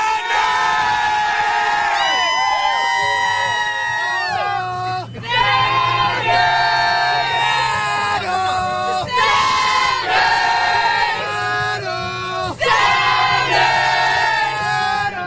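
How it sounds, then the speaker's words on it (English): A large crowd at a Seattle Sounders championship parade roars and cheers in loud sustained bursts, with shouts, whoops and piercing yells rising and falling in waves. "Okay, give me a cheer."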